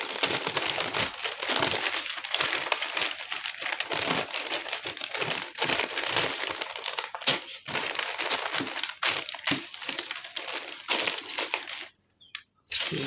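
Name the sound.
handling and folding pattern paper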